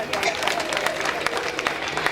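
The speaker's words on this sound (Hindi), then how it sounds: "तालियां बजाइए।" An audience claps at a spiritual gathering in Agra, a brief burst of scattered hand claps over a crowded room, with talk running underneath.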